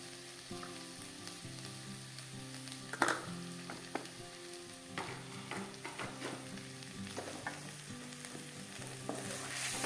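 Goat tripe with turmeric frying in a pan while being stirred, a continuous close sizzle broken by repeated scraping and clinking strokes of a utensil against the pan.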